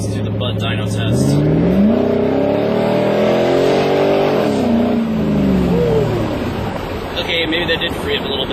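An F-Body car engine revs on a dyno, its pitch sweeping up and down in loud sustained pulls with steady roaring noise throughout.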